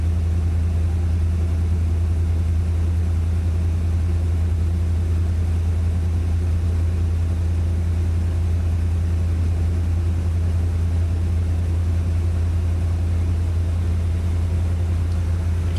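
A Corvette engine idles steadily after a winter cold start, with a deep, even rumble and a low hum that never changes, running on its own without any voices.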